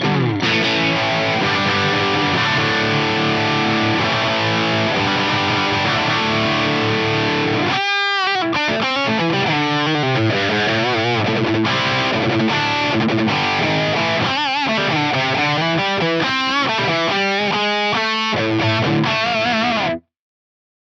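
Heavily distorted electric guitar plays sustained chords, then choppy riffs with sharp stops, a thick midrange-heavy overdriven amp tone from an input EQ boost of about 9 dB at 800 Hz throughout.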